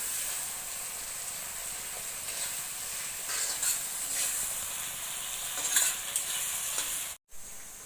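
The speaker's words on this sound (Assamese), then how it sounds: "পিঁয়াজখিনি ৰংচোৱা হোৱালৈকে ভাজিব লাগিব।" Sliced onions sizzle steadily in a hot pan, a dense frying hiss broken by light stirring scrapes, with a brief dropout near the end.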